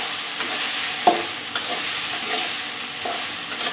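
Okra fries in a pan with onion, oil and garlic, giving a steady hiss of sizzling oil and a few light knocks and scrapes from stirring.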